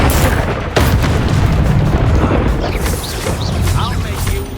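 Explosive spells Confringo and Bombarda in the game Hogwarts Legacy, loud booming blasts and bursts with a sharp impact near the start, amid continuous battle noise and a voice calling out spells.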